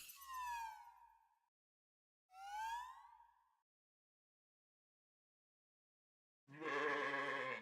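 Goats in the video game CrossCode bleat in two loud, wavering cries with a pause between them, followed after a silence by a third harsher, buzzier bleat.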